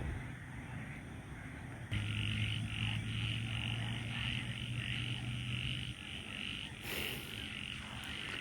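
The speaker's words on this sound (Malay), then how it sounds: "Bila suasana gelap, tanpa lampu, hanya bunyi katak" At night at a solo campsite, frogs croak in a dense, continuous chorus over a steady hum of insects, with one nearby frog holding a low drone for several seconds.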